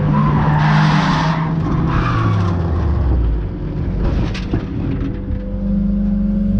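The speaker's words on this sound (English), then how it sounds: "I think I did buzz the engine a little bit. You could hear it clattering as the clutch was let out." A budget Mazda race car in qualifying at Cadwell Park clatters as the clutch is let out. The loud, close engine drone shifts in pitch with rough, scraping tire noise and no voices.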